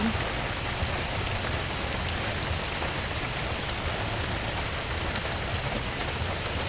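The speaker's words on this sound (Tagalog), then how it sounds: "sobrang lakas ng ulan, parang bagyo na" Heavy rain pouring steadily at a milkfish fishing spot in Metro Manila, a dense, constant hiss drumming on surfaces with no pauses, loud and close.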